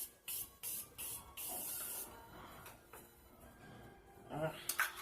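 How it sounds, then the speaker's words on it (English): Several short hissing bursts of cosmetic spray misted onto a face, then one longer mist, fairly close; a voice speaks briefly near the end. "I'm going to spray it one more time."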